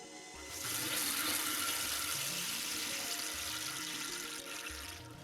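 Isobar 3 water softener cycled into backwash while in bypass, water rushing steadily through the valve and pipes with faint mechanical clicks, loud and continuous after a quiet start.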